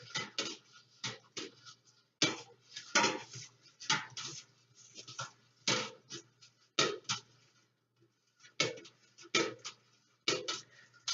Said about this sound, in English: So I'll start off with my spoon, just stirring.